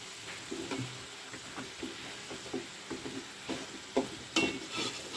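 Beans tipped into fish already browning in a pan and stirred, giving soft rhythmic scraping strokes over a low sizzle, close and moderately quiet, with a brighter clatter near the end and no talking.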